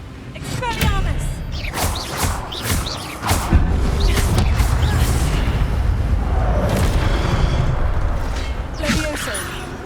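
Spell effects from the Hogwarts Legacy video game, with the Expelliarmus disarming spell cast amid combat: repeated booming blasts and crackling magical impacts over a steady loud game soundscape, with a few sharp higher zaps.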